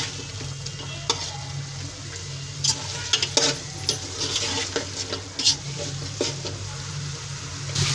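Beef and whole spices with green chilies fry and are stirred in a pot for yakhni pulao, a close steady sizzle broken by scraping spoon clinks against the metal, with no talking.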